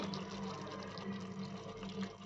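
Water poured in a small amount onto chicken in a cooking pot, a steady close splashing trickle lasting a couple of seconds with no talk.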